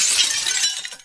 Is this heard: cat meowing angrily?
no